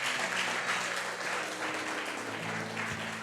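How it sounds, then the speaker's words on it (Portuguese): A church congregation applauds a boy during a communion service, steady clapping from many hands in a reverberant hall, sustained and fairly even with a faint tonal hum underneath. "Dá uma salva de palmas para esse menino."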